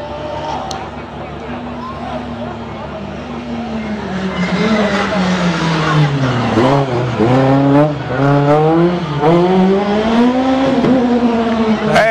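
Citroën C2 rally car racing on a rally stage, the engine revving and climbing through gears with a loud rising and falling whine, close and steady throughout.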